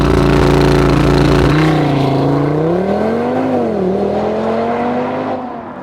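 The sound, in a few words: Audi TT RS 2.5 liter 5-cylinder engine accelerating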